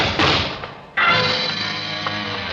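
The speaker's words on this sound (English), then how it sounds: "Shots came from behind my office door." Two sharp, loud gunshot effects from an old-time radio drama, Rocky Jordan, crack out about three-quarters of a second apart, each followed by a fading decay, the second one slightly stronger.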